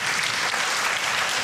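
An audience at a Hindu temple consecration in Cleveland claps in thanks, giving a dense, even burst of applause that fills the whole moment.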